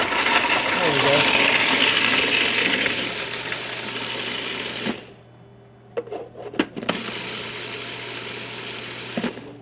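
A small grinder coarsely grinds walnuts for a gluten-free raw recipe, a loud steady whirring buzz for about five seconds that then stops, followed by a few sharp knocks and clicks as the machine is handled.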